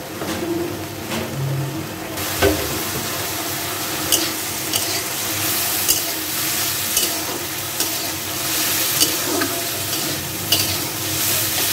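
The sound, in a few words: fish with turmeric, salt and chili frying in oil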